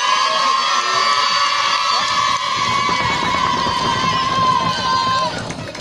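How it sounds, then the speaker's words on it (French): Crowd at an outdoor festival-of-lights gathering cheering and shouting with scattered applause, a busy, loud din of many voices including children that holds steady before easing off near the end. "On applaudit bien évidemment Nicole également."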